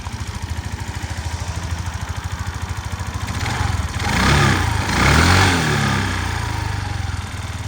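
A Suzuki Address V125 S scooter in stock condition idles with a steady, close putter, revs up twice in the middle, then settles back to idle.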